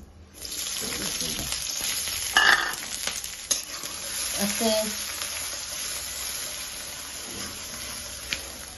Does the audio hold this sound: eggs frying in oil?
yes